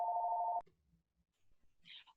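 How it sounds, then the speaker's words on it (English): A telephone rings once indoors with a single clear electronic tone, then cuts off into near silence, followed by a faint brief chirp. "Phone is ringing."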